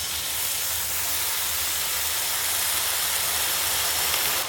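Pumpkin greens hitting a hot pan with onion and turmeric, a loud, dense, unbroken sizzling hiss filling the whole moment, close and steady.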